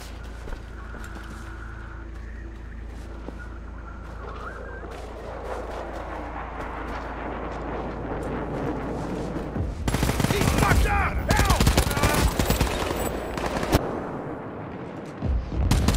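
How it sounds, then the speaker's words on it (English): Artillery fire in a military video game: a long low rumble of distant battle gives way to a loud, dense barrage of heavy blasts and rapid shots in the second half, with faint game announcer voices. "Artillery fire incoming."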